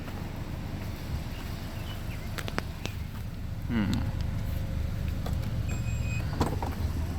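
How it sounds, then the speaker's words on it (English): Power tailgate on a 2018 Mazda CX-9 running its motor, a brief whirring sweep partway through over a steady background hum, fairly faint and with no talking. "Power tailgate"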